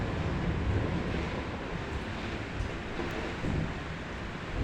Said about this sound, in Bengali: বাইরে প্রচুর ঝড়ো বাতাস হচ্ছে